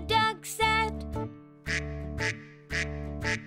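Animated mother duck in an English nursery rhyme, voiced with six loud, close quacks: two pairs, then four spaced evenly over a steady musical backing.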